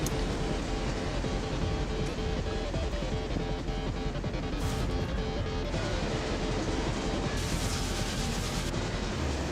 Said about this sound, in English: That is a train that has seen things.